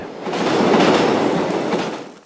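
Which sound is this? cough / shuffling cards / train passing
train passing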